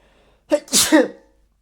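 A single sharp sneeze, close and loud, with a quick breathy intake before the burst, then silence.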